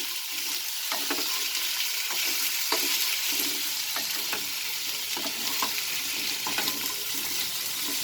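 Brinjal and potato sauté in a pan for aloo baingan fry, a steady close sizzle broken by regular scraping stir strokes, with no one speaking.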